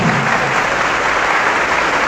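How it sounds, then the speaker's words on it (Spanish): Dense, steady applause from an audience at a religious debate, greeting a priest; loud and sustained for about two seconds with no voices over it. "Aplauso pues para el padre,"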